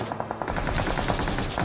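Rapid bursts of automatic gunfire from the battle royale game BGMI, played in first-person mode, crackle in a steady fast rhythm through the whole stretch, loud and close, with no talking over them.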